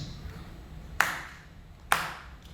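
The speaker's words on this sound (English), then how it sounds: "Okay, so I clap my hands." Two sharp hand claps ring out about a second apart in a drum clinic room. Each is a crisp, loud smack that trails off in a short echo over a quiet background.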